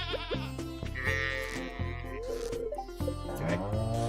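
Sheep in the farming game Stardew Valley bleat in a string of wavering, tonal calls, several overlapping cries close and clear over a steady low hum of game sound.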